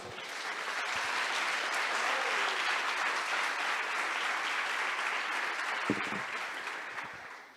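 A church congregation applauds for the Lord in a dense, continuous wash of clapping that swells in, holds steady, then tapers off at the end.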